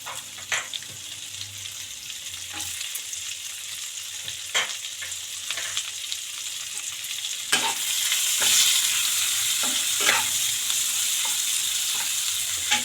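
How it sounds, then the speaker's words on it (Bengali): Onions fry in an oil-filled pan with a dried red chilli for paneer butter masala, giving a steady close sizzle broken by sharp scraping stirs that grows louder and denser toward the end. "পেঁয়াজগুলো ছেড়ে দেব।"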